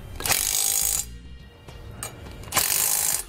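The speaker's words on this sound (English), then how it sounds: "And then we'll go ahead and snug up all of our hardware." A hand ratchet snugs up mounting hardware on a Kodiak trailer disc brake kit for a 2018 Grand Design Momentum, loud close clicking in two bursts with a short pause between and no talk.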